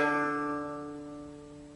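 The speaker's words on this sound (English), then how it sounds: "This is the sound of the ordinary string that rests on the bridge." A shamisen's ordinary string resting on the bridge, plucked once without the sawari buzz, giving a clean, steady pitched tone that fades gradually over under two seconds.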